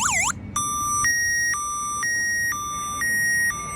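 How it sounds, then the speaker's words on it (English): Factory alarm on a Ford F-250 pickup, triggered by an add-on shock sensor, sounding close and loud: a quick falling chirp, then a steady electronic tone that flips between two pitches about every half second. "This is a shock sensor add-on to the factory alarm system"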